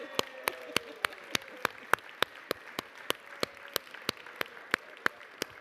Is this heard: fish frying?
no